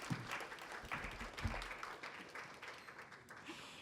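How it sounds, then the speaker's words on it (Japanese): An audience applauds steadily, a warm wash of many hands clapping that stays even and then slowly eases. "今一度盛大な拍手お願いいたします。"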